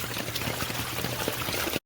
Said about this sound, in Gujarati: ફૂલ વરસાદ આવી ગયો છે.